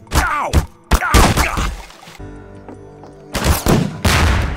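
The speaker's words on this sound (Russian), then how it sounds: "Два выстрела дал, по-моему." Gunfire in the game Garry's Mod DarkRP: several loud, sharp shots in quick bursts with a pause of quieter background in the middle, close and forceful.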